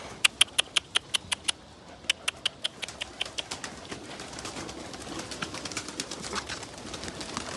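Pigeons flap and flutter inside a bird enclosure, a quick run of sharp wingbeat claps at the start, then further bursts of flapping and scrabbling over a soft rustling background.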